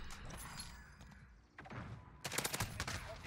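Assault rifle hipfire in a video game: a quieter stretch of muffled shots and mechanical clatter, then a loud rapid volley of close shots toward the end.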